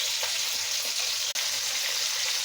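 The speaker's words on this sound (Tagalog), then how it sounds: "igigisa ko muna yung sibuyas at bawang at saka luya" Onion, garlic and ginger sautéing in a pan for Filipino ginataang gulay, a steady close hiss and crackle of sizzling oil throughout, with one brief sharp tick partway through.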